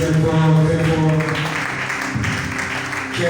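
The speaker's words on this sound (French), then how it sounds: "Applaudissez très fort," Audience applause at a book launch: sustained clapping across the room, loud and continuous, with a held musical tone and voices underneath early on.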